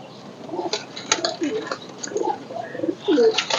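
Royal Teddy pigeons cooing at a bird seller's setup, with several soft, throaty coos in quick bursts close by and light chirps mixed in, while someone talks underneath.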